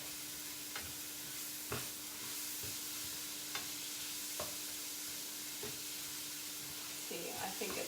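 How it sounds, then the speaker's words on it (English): Shrimp, eggs and coconut aminos are stirred into a sizzling cauliflower rice stir fry, with a soft, steady frying hiss and a spatula scraping the pan about once a second. "I'm going to add in my coconut aminos, my eggs, and stir in the shrimp."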